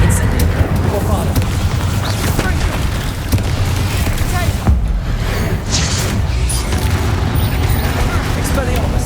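Incendio fire and Bombarda blasting spells cast in Hogwarts Legacy, a dense, loud, continuous roar of booms and crackling bursts with no pause, over a heavy rumbling game soundscape.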